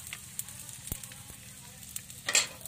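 Danggit, a dried fish, sizzles quietly in a frying pan with a soft, steady crackle and a few sharper spits, heard alone at low volume.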